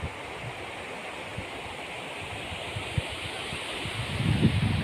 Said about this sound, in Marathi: पाण्याचा तुम्हाला आवाज येत असेल.